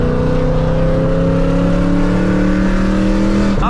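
A car engine revs hard close by, loud and continuous, its pitch climbing steadily as it accelerates, with no voices.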